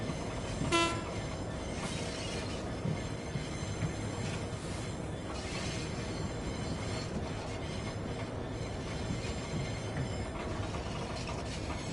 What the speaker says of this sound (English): I love the wagon sounds.